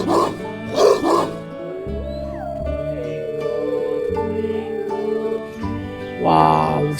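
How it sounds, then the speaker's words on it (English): A wolf gives a few sharp barks, then a long, wavering howl that slides downward before fading, followed by another short bark, all fairly close. "This is wolf."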